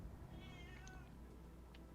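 A cat meows with a drawn-out, wavering cry near the start, followed by a short high chirp and a brief faint squeak, all over a steady low background hum with no talking.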